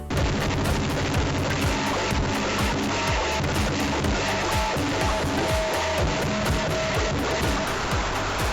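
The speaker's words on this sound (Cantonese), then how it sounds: "仲放咗一個好長、好長、好長嘅炮仗" A very long string of firecrackers set off at a Lantern Festival lion dance bursts in a dense, loud, continuous crackle of rapid explosions for the whole stretch, with no speech.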